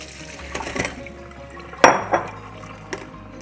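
Soaked potatoes drained in a home kitchen for a grandmother's roast chicken recipe: water pours and splashes briefly alongside clinks of a pot or colander, with a sharper clatter near the middle and softer knocks after.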